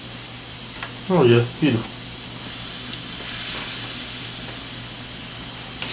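Chicken searing on a hot grill beside summer squash, a steady close sizzle and hiss that carries on after a short spoken exclamation.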